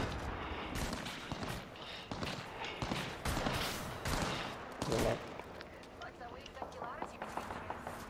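Rapid bursts of gunfire from an online shooter game crackle through the mix under a player's speech, with scattered footsteps and clatter between volleys.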